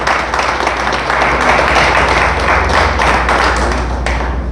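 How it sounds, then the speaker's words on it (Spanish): Congregation in a church applauding loudly and steadily, a dense continuous wash of many hands clapping close by with a low rumble underneath, no voices standing out. "Dele fuerte, fuerte el aplauso a nuestro Dios."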